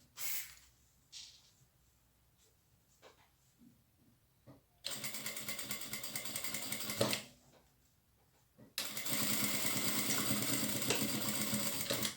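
A sewing machine stitches the closing seam of a fabric bag made from decorative upholstery fabric: soft handling clicks first, then two sustained bursts of fast, whirring stitching, each running steadily for a few seconds before stopping.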